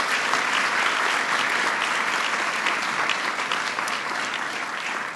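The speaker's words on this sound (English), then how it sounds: "Please give them a big round of applause for their great work." A large audience at a White House medal ceremony for scientists gives a sustained, dense round of applause, loud and even throughout and easing only slightly at the end.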